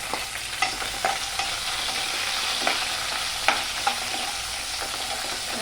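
Onions and capsicum sizzle in a pan for pav bhaji, a constant frying hiss broken by scattered scrapes and taps of stirring, with no talk over it.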